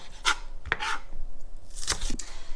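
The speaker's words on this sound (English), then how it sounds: "So we cut these into 3 and then we slice them exactly like we've done with the cucumber." A knife slices spring onions into julienne strips on a cutting board, a few sharp, close chopping strokes in uneven bursts separated by short pauses.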